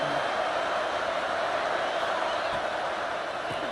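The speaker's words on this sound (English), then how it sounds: "This offense trying to quieten the crowd on 1st and goal, and they are not cooperating" A stadium crowd at a football game roars as a steady, dense wash of noise that holds level and loud throughout, while a commentator speaks over it.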